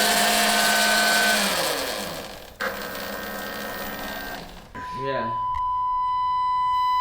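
A Nucular P24F controller calibrates a Talaria XXX motor: a loud whirring motor spin winds down, pauses, then spins again before a clear electronic beep tone rings out; a single short spoken word is heard.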